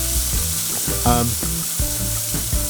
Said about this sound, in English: I dropped the burgers in that have the Hawaiian marinade on them